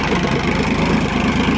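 A 45 hp Sonalika DI 42 Tiger tractor runs with no load, its engine giving a steady, loud, low rhythmic throb close by.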